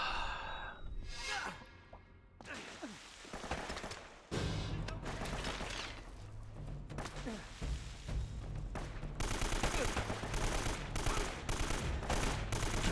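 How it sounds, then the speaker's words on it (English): Video game gunfire, bursts of rapid shots and heavy thuds mixed with dense action noise and a sigh or gasp, growing louder and more constant toward the end. "Stop shooting beside him and shoot him."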